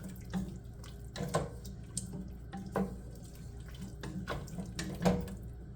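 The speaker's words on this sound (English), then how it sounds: "now we're going to add our 2 cups of beef stock" Beef stock poured into a cooking pot: a soft running liquid splash with a few louder splashy bursts spread across several seconds, fairly close and quiet, with no voices.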